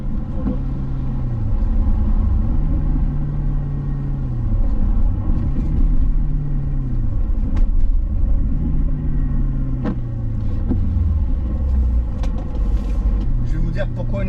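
A BMW 545i E60 with a V8 engine rumbles steadily and rises through several repeated climbing pitches as it accelerates and shifts. A voice talks over it throughout.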